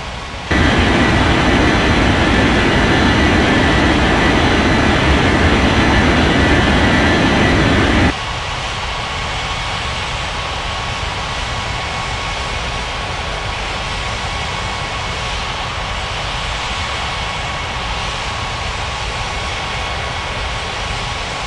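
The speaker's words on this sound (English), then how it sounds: "JetBlue 4414 is on approach. JetBlue 4414 cleared to land runway 36." JetBlue jet airliner on approach and landing at Rocky Mountains Regional Airport, a loud steady engine roar that drops abruptly to a quieter whine and hum after about eight seconds.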